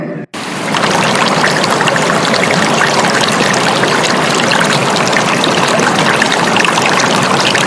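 Flowing water from the River Cheam rushes and gurgles continuously as a radio comedy sound effect, starting abruptly after a brief gap and staying loud and steady throughout with no voices.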